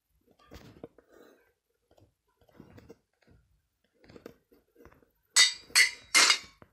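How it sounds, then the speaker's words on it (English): Minecraft anvil in a hardcore world: scattered quiet clinks and taps at first, then three loud metallic clangs in quick succession as the anvil is used and breaks. "My anvil broke!"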